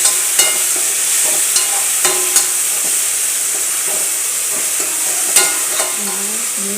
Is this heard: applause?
no